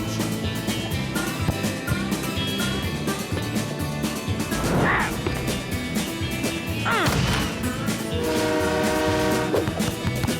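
In an animated cartoon, a train horn toots over a busy, loud mix of music and sound effects, with a rumbling rail noise running underneath throughout.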